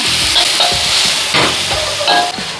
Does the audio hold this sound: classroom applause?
no